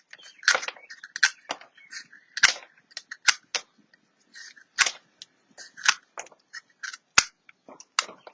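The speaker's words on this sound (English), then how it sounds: "Let's get some smaller scissors for this" Small scissors snipping through compost material in a bin, a string of sharp, irregular cuts close by, some in quick pairs, with brief pauses between them.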